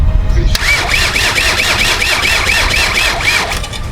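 A VW Golf MK5 with an ASZ diesel engine cranks on a weak battery, a loud, slow, labouring starter churn that runs on with a rhythmic whine for several seconds.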